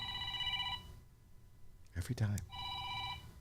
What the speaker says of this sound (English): Are you getting a phone call?